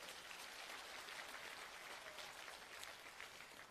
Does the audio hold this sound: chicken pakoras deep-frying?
no